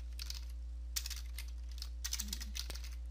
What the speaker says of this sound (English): you're going to type in copy